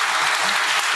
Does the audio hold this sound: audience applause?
yes